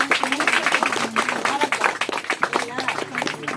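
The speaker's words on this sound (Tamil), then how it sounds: "கைத்தட்டலாமே எல்லாரும்" Applause from a gathered audience in a hall, many hands clapping in a quick busy patter close by, with voices talking through and over the clapping.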